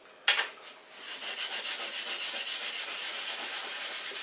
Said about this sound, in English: sandpaper, or in my case emery paper, and just rub the two surfaces so they're nice and smooth